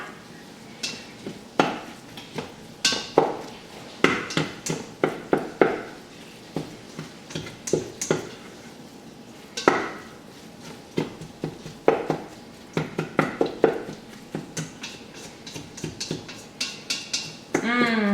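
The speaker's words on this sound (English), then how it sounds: "Now I'm just going to mix it up and cook it until the meat is brown." Meat and onions with taco seasoning being stirred in a pot for taco soup: repeated irregular scrapes and clinks of a utensil against the pot over a soft sizzle, close and steady throughout.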